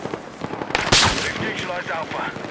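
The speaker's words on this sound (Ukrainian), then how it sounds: "От він в мене снайперською гвинтівки стріляє." Gunfire crackles in the video game Battlefield 6, with a sniper rifle and automatic weapons being fired. Dense, loud shots and bursts fill the clip alongside a player's voice.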